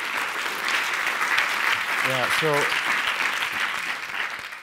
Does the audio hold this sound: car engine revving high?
no